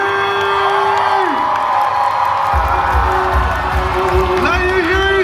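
A crowd cheers and whoops at the Midsummer Scream event, a loud, sustained roar of voices under an amplified announcer and music, swelling near the end.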